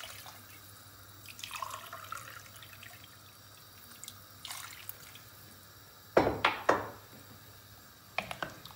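Water pours and splashes over potatoes in a cooking pot, a soft running flow in the first seconds, then several sharp bright splashes and glugs that ring out close to the listener.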